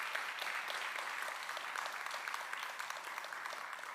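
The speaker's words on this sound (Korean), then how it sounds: "우선 해외에서 오신 분들께 큰 박수 격려 보내주시기 바랍니다" A room full of people at an international symposium applauds steadily, a dense wash of clapping that holds at an even level throughout.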